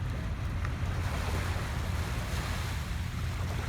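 Early-morning water washes against the shore in a steady, full rush of surf with wind buffeting the microphone, constant and close.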